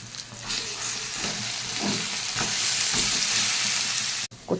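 A hilsa fish head goes into a pan of taro greens, setting off a loud, close, continuous sizzle and frying crackle with some stirring scrapes, ending in a sudden cut to near silence.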